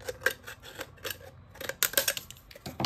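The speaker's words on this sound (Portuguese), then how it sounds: "depois eu termino com a tesoura" Scissors snip through a recycled aluminum beer can in a quick run of sharp metallic clicks and crunches, close and crisp with no one speaking.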